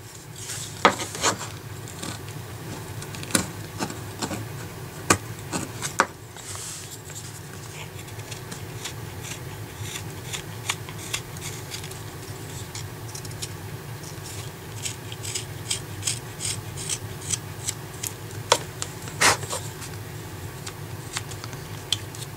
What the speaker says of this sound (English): I'm going to come back up this way and do some push cuts.